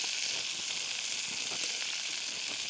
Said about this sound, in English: As the cabbage fries up